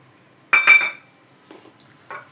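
Fenugreek seeds poured into a pan while cooking egg curry: one bright clinking rattle lasting about half a second, then two softer, shorter clinks against near silence.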